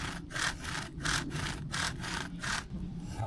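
Rhythmic back-and-forth rasp of a small wooden spindle turned by a bow drill against a wooden fireboard, pulsing in steady strokes about twice a second, close and fairly quiet.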